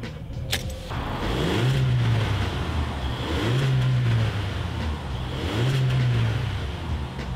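A 2019 Volkswagen Polo GT with a manual gearbox accelerates through three rising engine pulls, each climbing then dropping at a gear change, with a muted exhaust note heard from inside the moving car over road noise.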